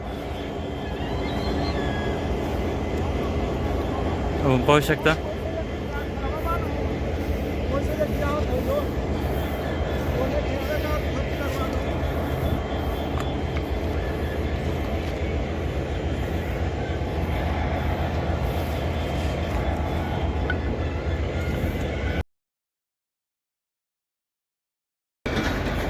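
A train with coaches pulls into Beed railway station amid a huge crowd, a long continuous rumble of wheels and carriages close by, with a sharp burst around the five-second mark and people talking over it.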